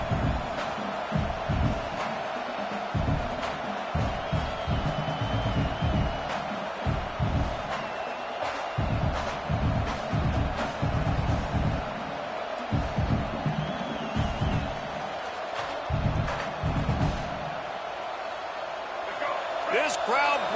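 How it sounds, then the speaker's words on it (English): College football stadium crowd making noise early in the game: a constant roar of many voices with repeated thumps and bursts of cheering, mostly distant, under steady commentary talk. "This crowd bringing the energy and noise early"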